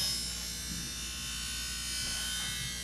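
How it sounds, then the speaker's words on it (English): Bench grinder grinding, a steady high buzzing whine that holds constant throughout, heard alone with no speech. "grinding something on the bench grinder"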